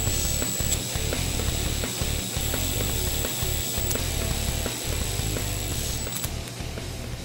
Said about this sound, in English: Now I'm going to torque these down.